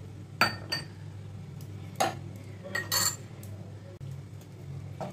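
A spoon scrapes and clinks against a pan while milk is stirred into flour, several sharp metallic knocks and softer scraping at close range, quiet overall.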